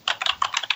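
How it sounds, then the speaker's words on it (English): Quick clicking keystrokes on a computer keyboard, about eight crisp taps in an uneven rhythm, close and clear with no voices. "I can hear someone typing."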